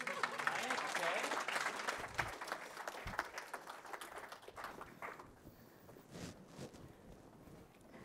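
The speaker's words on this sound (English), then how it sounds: "Rousing applause." Audience applause at a conference session: a dense, steady patter of clapping from a seated crowd that gradually thins and softens over several seconds, with scattered lighter claps near the end.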